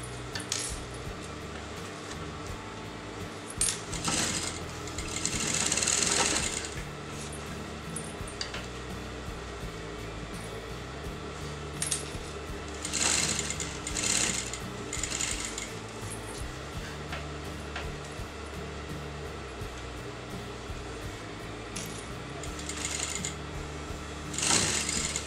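A sewing machine stitches piping fabric along a kameez neckline in quiet bursts, with short runs of rapid mechanical whirring between pauses and occasional light metallic clinks.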